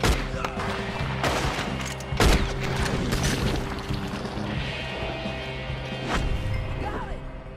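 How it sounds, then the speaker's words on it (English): Repeated gunfire in Red Dead Redemption 2, a dense fusillade of overlapping shots and booms with a sharp loud crack near the middle, over steady game music and ambience. "I'm gonna shoot you off that rock!"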